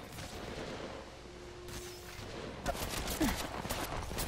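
Rapid gunfire in the Apex Legends Mobile shooter game, a dense burst of shots that grows louder and more rattling in the second half, with no voices over it.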